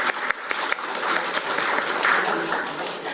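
Audience applause at a parliamentary forum in Korea, steady dense clapping filling the hall from start to finish with a few sharper individual claps near the beginning.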